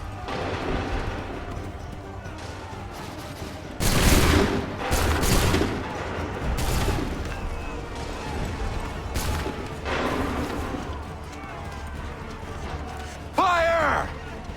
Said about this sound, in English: Make ready. Fire now!